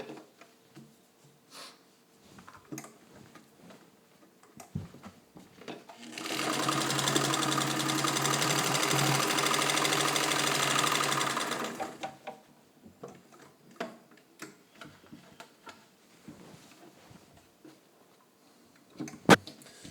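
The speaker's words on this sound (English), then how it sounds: "test to see how the machine keeps its stitches under tension properly when it goes across that seam" A fully serviced Singer 66-18 Centennial sewing machine with crinkle finish stitching across a thick seam, running in one steady, rapid six-second burst between quieter handling clicks and taps.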